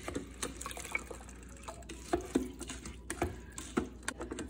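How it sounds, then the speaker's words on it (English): Coconut milk glugs from a can into a pot while making coconut rice, a soft liquid pour with a few small splashes and clinks, close by and alone. "add the entire can of"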